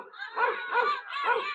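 Dogs bark in three rough, harmonic bursts, close and fairly loud, with no talking over them, as ragged strangers are met at a doorway.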